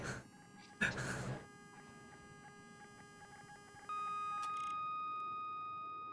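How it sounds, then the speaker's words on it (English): Mass Effect 3 game audio: a burst of noisy effects gives way to faint tones, then a loud, steady electronic beep starts and holds for the last couple of seconds, slowly fading. "that loud beep"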